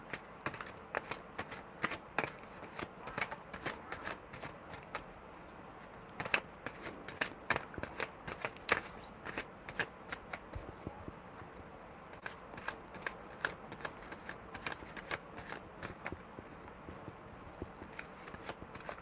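Tarot cards are shuffled by hand close up, producing quiet, irregular bursts of crisp riffling and slapping clicks that continue for nearly twenty seconds.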